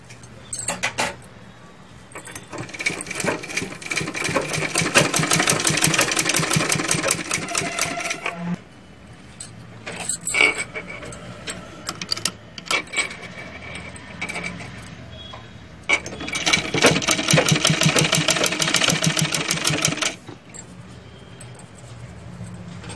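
An electric sewing machine stitches a designer blouse in bursts: a long run of rapid close clatter, a pause with scattered clicks, then another sustained stitching run.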